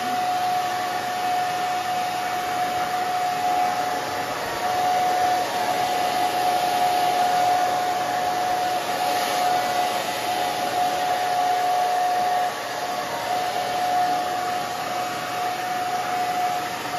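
A hair dryer runs steadily at close range, a loud continuous whine with a thin high tone, blowing without a break while hair is dried for a short pixie cut.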